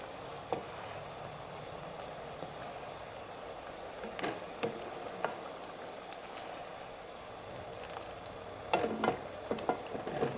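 Butter melts and sizzles in a pan for a seafood sauce: a steady, close crackling hiss with occasional soft stirring clicks and no talking.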